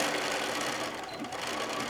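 A sewing machine back stitching a fabric bag made from fat quarters, a steady rapid mechanical whir running loud and close throughout.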